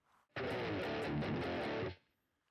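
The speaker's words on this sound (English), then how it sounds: "let's add more distortion from the tube screamer" An electric guitar rings out through a Tube Screamer distortion pedal on a GarageBand amp simulator, one heavily saturated chord sustained for about a second and a half before cutting off abruptly.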